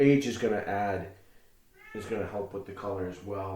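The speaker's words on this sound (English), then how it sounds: "Sorry for the cat. I had him in the room with me," A cat meows indoors in a room, drawn-out wavering cries that run under and between a man's steady speech, close and fairly loud.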